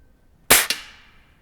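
A Springfield Armory M1A air rifle fires a single sharp, close crack followed by a quick second report or impact, with a short fading tail in an otherwise quiet setting.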